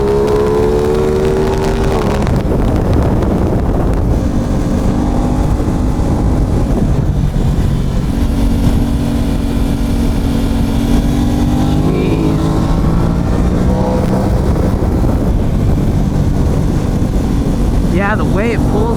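A parallel twin motorcycle pulls hard out of turns, its engine droning and rising in pitch under heavy wind rush, with riders talking over the noise.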